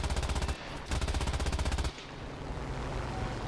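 Aircraft machine guns firing in War Thunder, two loud rapid bursts of steady rhythmic fire about a second each, separated by a short gap, then fading into engine drone.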